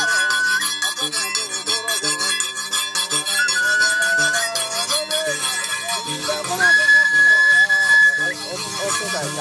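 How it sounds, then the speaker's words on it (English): Senoufo hunters' whistles blare in long, shrill sustained tones, two main blasts separated by a short gap, cutting through a dense, busy background of other sound. "Whistles blare forth to tell the animals in the bush of the hunter's victory over one of them."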